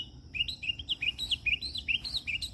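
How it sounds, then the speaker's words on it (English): Bird chirping outdoors among blooming firebush in autumn, a quick run of repeated high, bright chirps at moderate distance over a soft background hum, with no voices. "Not sure how close that bird is."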